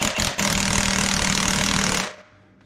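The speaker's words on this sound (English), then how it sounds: "we're just going to use our impact" Impact wrench hammering off the supercharger pulley on a Shelby GT500, a loud rapid rattling burst with a brief stutter early on, then continuous until it stops abruptly.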